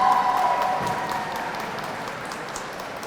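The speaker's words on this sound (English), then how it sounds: "Vamos a darle un aplauso al Club Alma Yaucana" An audience at a Hispanic Heritage Month opening ceremony applauds the Club Alma Yaucana award, a steady diffuse patter of clapping that gradually thins out, with a brief tonal hum near the start.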